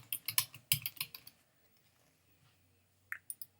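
Typing on a computer keyboard: a quick run of close, crisp key clicks, a quiet pause, then three more taps near the end.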